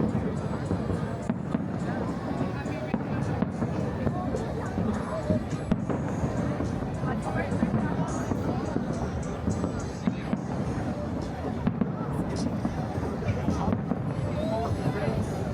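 Fireworks at a Las Vegas Fourth of July show boom and crackle continuously at a distance, blending into a dense roar of crowd chatter and cheering, with people talking close by.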